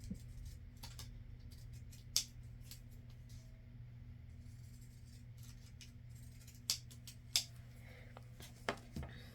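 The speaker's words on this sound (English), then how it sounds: "Let me just grab my scissors and cut the sides down a little bit." Scissors snip at a stiff index card in a few soft, scattered cuts over a quiet background hum.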